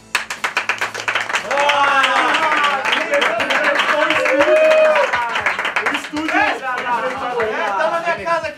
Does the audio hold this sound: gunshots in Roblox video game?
no